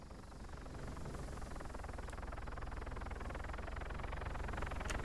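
Helicopter approaching in the military combat game Arma 3, a steady broadband rotor and engine rumble that swells slightly and holds, continuous and moderately loud throughout without talk.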